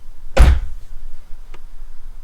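A single solid thunk of a Porsche 981 Boxster car door shutting, loud and close, followed by a faint short click about a second later, then quiet.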